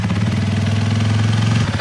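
A motorcycle engine runs steadily in freezing −20°C Finnish weather, a loud, close, throbbing mid-pitched idle with a rapid pulsing rhythm that dips briefly near the end, with no talk.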